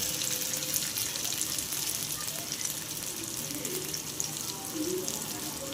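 Small potato pakoras frying in oil on a tawa, a continuous close sizzle and crackle with occasional stirring clinks, no voices over it.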